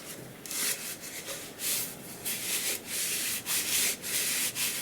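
A cloth rubs back and forth over a knife sheath to wipe off excess, making steady, close, hissing strokes in a repeated rhythm with brief pauses.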